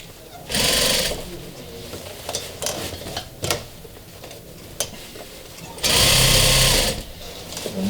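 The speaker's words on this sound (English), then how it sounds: "I'm going to start sewing." Sewing machine stitching a sofa cushion cover, in two loud, close bursts of steady whirring with quieter handling noises between them.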